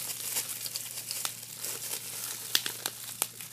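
Bubble wrap crinkles softly and close up, in sparse irregular crackles and a few sharper pops over quiet background.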